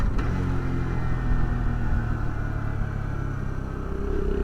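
Motorcycle engine revving hard as it is downshifted without rev matching, a loud, continuous, close rumble of steady engine noise with no pauses.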